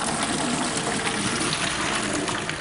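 Hot cooked pasta water pours off through a drainer in a kitchen, a loud continuous gushing splash that runs unbroken for a couple of seconds, close up with no talk.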